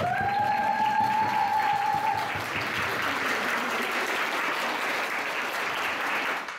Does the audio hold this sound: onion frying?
no